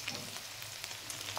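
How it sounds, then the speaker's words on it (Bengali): Soybean chunks, eggplant and cauliflower fry in hot oil with a dense, steady sizzle and crackle, close and continuous with no voices. "আমি সয়াবিন, বেগুন আর ফুলকপিটা ভেজে নেব আগে"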